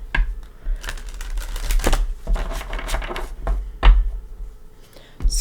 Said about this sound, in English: let's give them a shuffle or two.